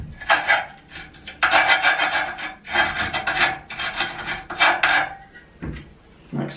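Skateboard grip tape edge being rubbed with a tool, a series of short rasping scrapes in bursts with brief pauses between strokes, close and fairly loud, no talking.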